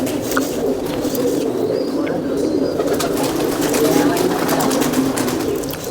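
A Ferozpuri pigeon coos in low, throaty rolling murmurs, close and continuous, while people talk nearby over it.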